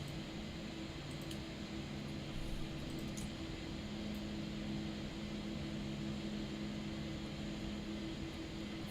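Airliner APU running in Microsoft Flight Simulator, a faint, steady mechanical hum and whine with a low tonal drone, continuous and even throughout, with no talk.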